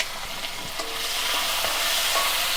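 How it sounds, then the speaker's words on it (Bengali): Green beans sizzle in a pan with a little salt and turmeric, giving a close, continuous frying hiss broken by brief scrapes and clinks of stirring, with no voices. "এই যে আমি বিনসটা এখন একটু ভাজবো"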